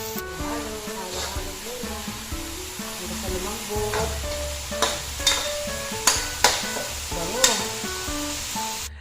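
Ground pork sautéing with fish sauce in a home kitchen pan for vegetable lumpia filling, a close sizzle with repeated sharp scrapes and taps as the mixture is stirred, and no voices over it.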